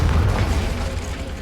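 A Confringo blasting spell explodes in the Hogwarts Legacy video game, a loud, deep boom with a rumbling burst that fades over a second, heard alone.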